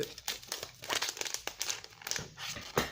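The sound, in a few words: opening plastic packaging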